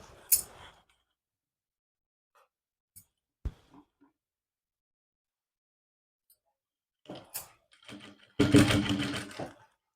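A sewing machine stitching a suit fitting seam gives a short burst of whirring near the end, after scattered clicks and fabric handling sounds amid quiet pauses.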